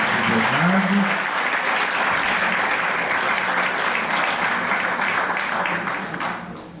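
A room of people at a film screening and discussion gives sustained, steady applause that carries on throughout and fades slightly at the end; a brief voice sounds near the start.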